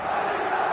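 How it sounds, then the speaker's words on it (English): Football crowd cheering in the eFootball video game, a steady broad roar of many voices held at an even level throughout, with no distinct individual shouts. "Crowd appreciates good football all round there"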